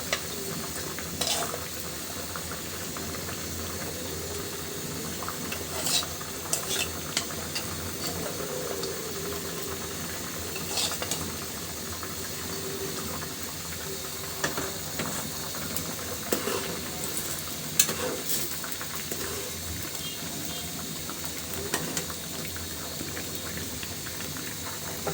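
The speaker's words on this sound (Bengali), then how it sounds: "তো আমি দিয়ে দিচ্ছি এখন ভেজে রাখা মাছগুলো।" Fried rui fish being added to a boiling curry with data stalks and potatoes, a quiet steady bubbling sizzle with occasional soft clicks and stirring sounds, no talk.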